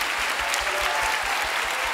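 A congregation applauds at a live worship concert of a Brazilian gospel singer. The clapping is dense, steady and even from a large crowd, with no voices over it.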